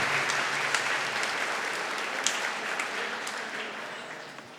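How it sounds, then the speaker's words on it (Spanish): A parish congregation at Sunday Mass in Parroquia San Marcos applauding, sustained dense clapping that fades slightly toward the end, with no speech on top. "Le damos un fuerte aplauso"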